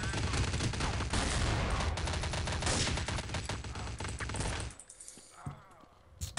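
Rapid gunfire in Counter-Strike: Condition Zero multiplayer, a dense, loud burst of shots filling most of the clip before dropping away, with brief talk mixed in.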